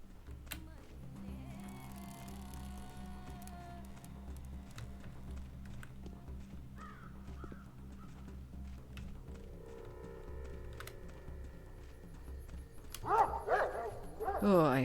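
Dogs in the game Pathologic, with several barks and yips scattered over a tonal ambient music bed, growing louder and more agitated near the end; a voice talks in places.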